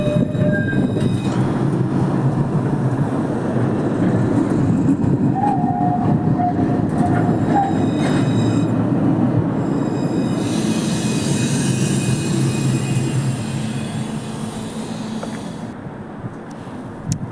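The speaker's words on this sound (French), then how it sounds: "il y a la ligne 1 qui arrive à son terminus sur ce quai" Montpellier TAM line 1 tram pulls into the Mosson terminus, a steady loud rumble of wheels on rail with a brief high squeal partway through, heard up close at the platform with no voices.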